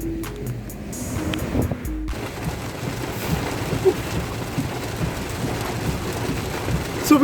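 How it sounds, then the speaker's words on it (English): Heavy monsoon rain at Tannirbhavi beach in Mangalore makes a dense, steady roar of close, loud downpour with scattered stronger splashes and bumps, and it continues for the whole seven seconds. "you can see it's been raining heavily here"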